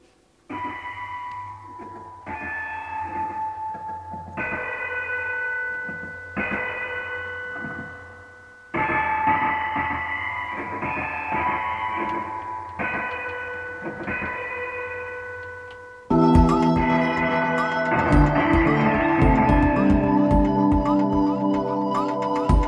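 Bright, bell-like toy piano notes ring out in short phrases, washed in a splashy metallic RE-501 spring reverb, then swell into a denser, louder cluttered passage near the end.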